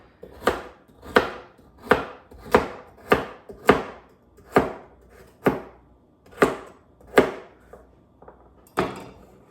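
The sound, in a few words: rough chopping vegetables with a knife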